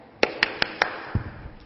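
Hand clapping at a market: four crisp, evenly spaced claps in quick succession, followed by a duller thump, all fairly close and with no talking.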